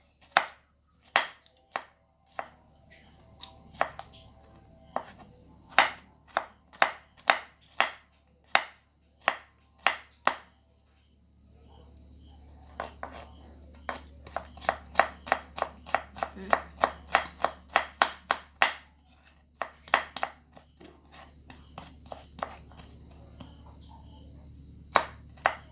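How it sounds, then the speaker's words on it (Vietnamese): A knife mincing garlic and chili on a cutting board for a vegetarian dish, with rapid sharp chopping strikes in irregular bursts, sometimes spaced and sometimes quick runs, up close with no talking. "Tỏi với ớt thì các bạn bằm nhuyễn cho mình ha."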